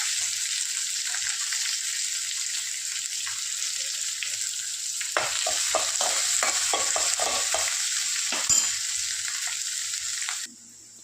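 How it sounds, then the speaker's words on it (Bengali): Dried chillies, curry leaves and onion frying in hot oil in a pan, a steady close sizzle with bursts of scraping as the spoon stirs, ending in near silence. "তারপরে দিয়েছি দুটো শুকনো লঙ্কা, তারপরে দিয়েছি কারি পাতা, তারপরে দিয়েছি পেঁয়াজ"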